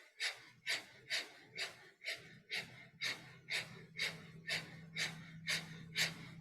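Breath of fire yogic breathing: a steady series of about a dozen sharp, forceful exhales through the nose, evenly spaced at roughly two per second, close and clear, with no talking.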